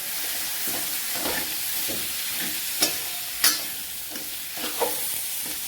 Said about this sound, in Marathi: फोडणीमध्ये छान मिक्स करून घ्यायचं